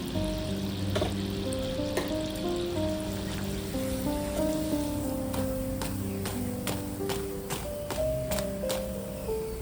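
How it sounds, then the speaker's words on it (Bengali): Stuffed pitha cakes fry in oil over low heat with a soft, continuous crackling sizzle and scattered sharp pops. A faint steady tonal hum runs underneath. "এই ভাজা পিঠেগুলো না কম আঁচে ভাজতে হবে, তাহলে ভেতর পর্যন্ত আমরা মুচমুচে হবে।"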